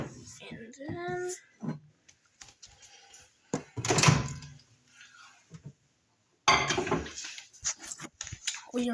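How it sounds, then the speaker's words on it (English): A microwave door clunks open and shut while ramen noodles are put in, with knocks and rattles of a dish amid bursts of close talking. "we are going to put it in the microwave for 2 minutes."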